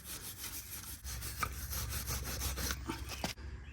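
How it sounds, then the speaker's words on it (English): A wire brush scrubbing the brake caliper bracket surface on a Ford F pickup during a rear brake job, brisk back-and-forth rasping strokes close to the mic, continuous then stopping abruptly near the end. "Now I'll take a wire brush and clean up the surface here where the new brake hardware will be snapping onto."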